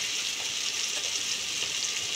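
Green chilies frying with roasted spices for namkeen seviyan, a soft, steady, hissing sizzle that stays even throughout.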